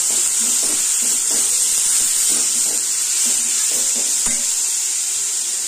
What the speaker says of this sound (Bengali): ভালো করে নেড়ে মূলোটাকে ভাজা করবো